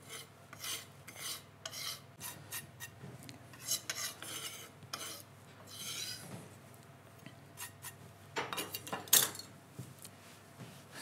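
Chopped coriander is stirred into yogurt in a bowl, with repeated scraping and rubbing strokes of a utensil against the bowl, close and fairly quiet, with no talking.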